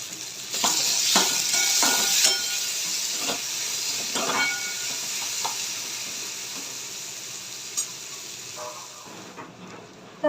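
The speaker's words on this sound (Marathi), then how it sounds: "एक टोमॅटो ॲड करूया बारीक चिरलेला आणि टोमॅटो मस्त तेलात विचू द्यायचं आहे" Finely chopped tomato sizzles and hisses steadily in hot oil, with intermittent stirring clatter throughout, then the frying settles slightly quieter toward the end; no talking.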